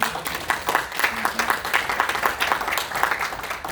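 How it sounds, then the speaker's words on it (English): Audience applause for Lynn at the close of a spiritual gathering, steady clapping from many hands, fairly near, with a few voices mixed into the clapping. "Another round of applause for Lynn."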